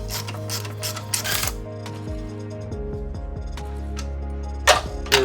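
Ratchet wrench removing a bolt while a Dodge SRT-4 engine with Eclipse transmission is mocked up: a close run of rapid mechanical clicks and metallic ratcheting, with a steady low hum underneath.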